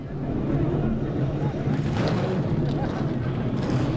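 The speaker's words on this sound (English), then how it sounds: "Drivers, start your engines." Race car engines of the Pirelli World Challenge field at Circuit of the Americas rumble together in a steady, loud, continuous drone with crowd-like ambience underneath.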